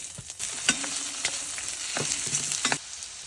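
Garlic hits hot cooking oil in a pan at a winter hot-tent campsite, a steady close sizzle with a few sharp crackles and stirring scrapes, no talking over it.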